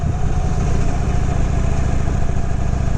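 Steady idle of a restored 1970 Harley-Davidson FLH Shovelhead engine, an even low-pitched loping thump that stays constant and close for the whole span, with no voices over it.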